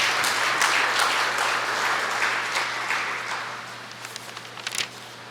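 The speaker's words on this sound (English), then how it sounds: "So give him a round of applause, please." An audience claps steadily in sustained applause that gradually thins out, ending in a few scattered last claps.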